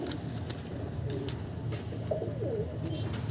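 Pigeons from a Nadia loft bred for flying contests coo softly in low rolling calls, with a faint bird chirp near the end, against steady background noise.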